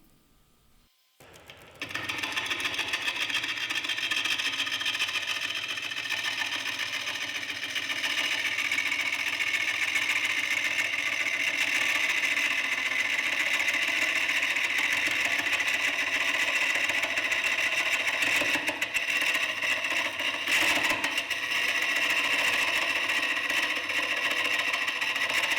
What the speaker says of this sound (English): So just using the Kutzall grinding disc to grind that down so that we've got some clearance there.